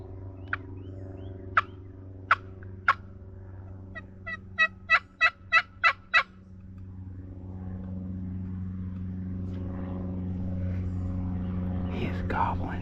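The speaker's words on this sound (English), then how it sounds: "He is gobbling like crazy." A wild Osceola turkey gobbles in South Florida, a few sharp distant calls followed by a quick run of rattling gobbles, over a steady low hum of background noise with faint whispering.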